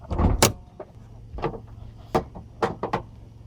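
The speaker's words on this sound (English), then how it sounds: "So let's pop the hood and get started." Hood release on a 2003 Nissan Altima, a series of close, sharp mechanical clunks and clicks, about half a dozen spaced irregularly over a few seconds with quiet gaps between, no talk.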